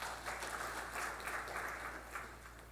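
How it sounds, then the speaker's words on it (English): A conference audience at an explosives safety event gives a faint, distant round of applause, a soft continuous patter of clapping that thins out toward the end. "A big round of applause for Dr."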